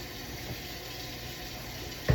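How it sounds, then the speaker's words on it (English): Tap water runs steadily into a sink while a glass jar is rinsed beneath it, a continuous close hiss and splash ending in a sudden louder knock or splash. "wash the jar."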